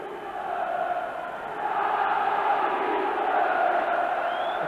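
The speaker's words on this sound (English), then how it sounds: "The crowd are doing their bit to try and lift them." Football crowd at a 1993 Tottenham Hotspur versus Leeds United match, a steady distant roar from the stands that swells slightly midway and holds, with no clear voice above it.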